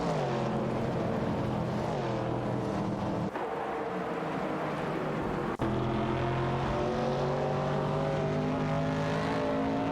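Racing-game engines from a Chevrolet Corvette C2 and a Ford Capri RS 3100 drone steadily as they battle on track, with layered harmonic whines shifting in pitch and two brief gear-shift dips.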